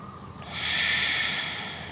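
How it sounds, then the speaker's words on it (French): Ujjayi breathing during a gentle vinyasa yoga session, a single long, close, hissing breath drawn through a constricted throat, swelling and then easing off. "Respiration Ujjayi, reste bien focus sur tes respirations."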